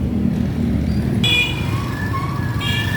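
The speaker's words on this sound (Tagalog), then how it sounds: "Dami sasakyan guys." Steady roadway noise from many passing cars and trucks on a busy street, with a continuous low rumble, a few short horn toots and a brief engine swell.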